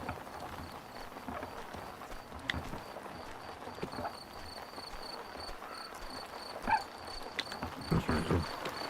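A horse's hooves clip-clop at a slow, uneven pace in the farming game Farmer's Life at night, with a steady chirp of crickets and insects droning in the background.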